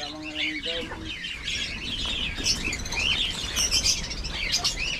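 African lovebirds chirp in a busy, overlapping chorus of high tweets and calls, fairly close, over a low rumble of background noise, with a brief tonal sound near the start.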